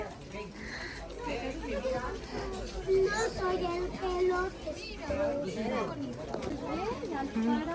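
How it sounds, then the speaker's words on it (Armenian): Children's voices fill a busy indoor space, with overlapping chatter and shouts, fairly close and continuous, while an adult talks nearby. "Ես ինչ աղմուկ աստեղ, բոլորը երեխաների հետ են"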